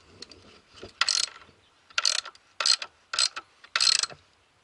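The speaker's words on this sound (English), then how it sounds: "So now start tightening it down while someone else is tightening it." Ratchet cranking on the motor mount bolts of an MK4 VW Golf/Jetta GTI with a 1.8T engine, in five short bursts of rapid clicking separated by brief pauses, close and clear.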